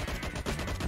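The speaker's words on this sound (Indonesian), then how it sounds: "Dia nembak." Rapid gunfire in the LifeAfter game rattles out as a dense string of shots in under a second, loud and close with no break.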